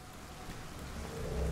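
Rain falling in the video game A Plague Tale: Innocence, a steady dense patter with low rumbling underneath that builds slightly louder toward the end, no voices.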